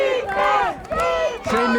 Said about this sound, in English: The crowd is beginning to get loud here in favor of the Black Hats